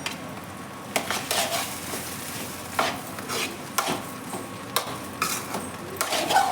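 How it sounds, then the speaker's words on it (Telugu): Fish roe frying with ginger garlic paste in a pan, stirred and scraped by a spoon: repeated sharp scraping strokes at an irregular rhythm over a steady close sizzle, no talk. "దీంతో పాటే అల్లం వెల్లుల్లి పేస్ట్ కూడా వేగిపోతుంది"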